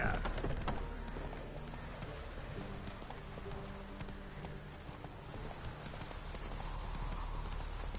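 Horse hooves clip-clop steadily in the Witcher 3 video game, a continuous walking rhythm close by over a low ambient bed, with a brief whinny-like sound near the start and no talk.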